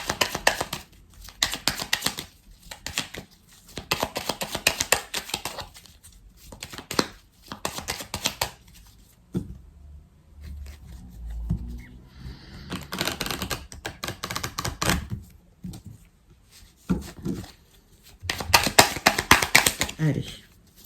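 Oracle cards are shuffled for a reading, giving a flurry of rapid papery riffles and taps in repeated bursts, close to the ear, broken by brief quieter gaps.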